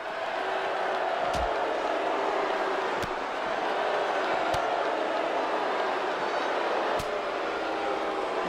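Wrestling event crowd during a match, a steady broad roar of many voices filling the hall throughout, with a few sharp impacts standing out above the din.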